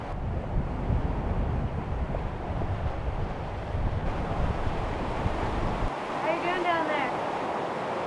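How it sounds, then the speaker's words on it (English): Big ocean waves wash past a sailboat at sea at night on a voyage toward Tahiti, a continuous rushing surge mixed with wind noise on the microphone, loud and close, easing near the end where a voice briefly breaks in. "It's so crazy to go into the darkness and like have these big waves."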